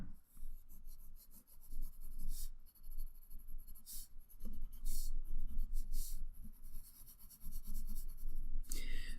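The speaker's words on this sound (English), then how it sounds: "Then I'll add in some more shading and detailing, and I'll also erase away these guidelines." Pencil shading and rubbing out guidelines on a nose drawing on paper, close and soft scratchy strokes with brisk rubbing passes in an irregular rhythm, no talk.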